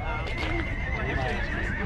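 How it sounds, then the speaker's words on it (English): Belgian draft horses whinny and snort nearby, high drawn-out neighs rising over a busy outdoor parade background at a stock show and rodeo. "And they're Belgian horses."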